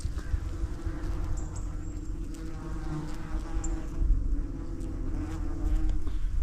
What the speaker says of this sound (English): I didn't know wasps live in the ground.